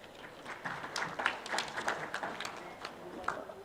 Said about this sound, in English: Ladies and gentlemen, a warm round of applause for them, please.